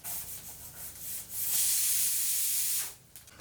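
Long-sliced onions sizzle in a pan for a potato-onion dry sabzi, a close, bright hiss that swells into a steady loud sizzle and then drops away near the end.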